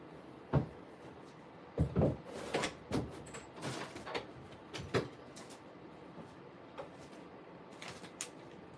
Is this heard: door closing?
yes